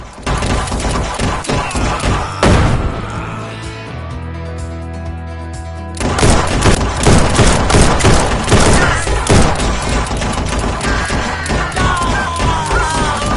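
Revolver gunfire in the virtual reality western shooter Guns'n'Stories: Bulletproof, repeated loud shots and impacts in dense clusters with a brief lull carrying musical background, then heavy firing resumes.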